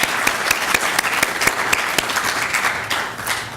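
Audience at an academic symposium claps steadily for several seconds, with sharp individual claps standing out from the dense applause, which eases slightly toward the end.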